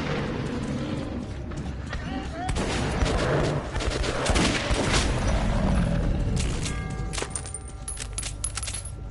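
NPC gunfire in the shooter game Metro 2033, dense bursts and scattered shots crackling over a busy, continuous game soundscape, loud and sustained through the middle, with chaotic rumbling action throughout.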